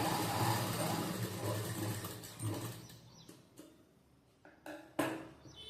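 A sewing machine runs a topstitch along a blouse strip, a continuous close whirring for the first few seconds that then stops, followed by scattered taps and handling knocks.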